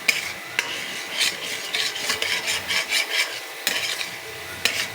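Masala for a fish curry is stirred and fried in oil in a pan: a spoon scrapes in repeated rhythmic strokes over a soft, steady sizzle, with a few sharp clinks against the metal.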